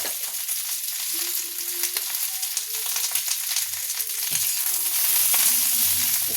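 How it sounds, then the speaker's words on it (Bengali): Vegetables sizzle steadily in hot mustard oil while cooking chilli chicken, with a continuous close frying hiss and occasional scraping stirs, growing slightly louder toward the end. "এই সর্ষের তেলেই এই যে এইগুলো দিয়ে দেবো। এটা একটু ভাজা ভাজা হবে, ভাজা ভাজা না, একটু নাড়বো।"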